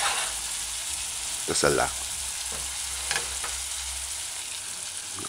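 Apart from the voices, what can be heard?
chicken frying in coconut curry in a pot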